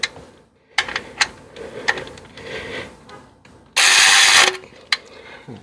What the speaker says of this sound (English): We'll put the drain plug back in with the cordless ratchet